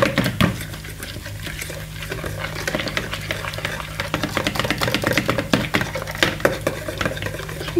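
Batter for a savory cherry tomato and feta tart is whisked in a bowl by hand, giving quick, steady scraping and clicking strokes against the bowl that are close and fairly loud, with no talking.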